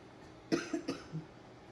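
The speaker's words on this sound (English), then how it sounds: "I don't know why I'm coughing." A person coughs a few times in quick succession, close and moderately loud, in an otherwise quiet kitchen.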